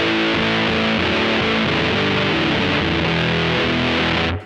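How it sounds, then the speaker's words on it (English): A heavily distorted electric guitar through the Fuzz Face-style red fuzz of an OPFXS V UNO multi-effect pedal sustains thick, buzzing chords with no pauses, loud and close, ringing out until it cuts off abruptly. "what I have is a red fuzz, which is kind of like a fuzz face sound loaded up"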